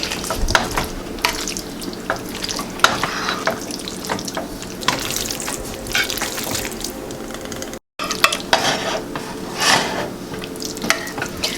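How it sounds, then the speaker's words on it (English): A ground beef mixture for shepherd's pie stirred in a pan: steady scraping and soft sizzling, with a constant wet, watery texture throughout and a brief dropout near the end. "I'm just going to stir that as evenly as I can into our ground beef mixture."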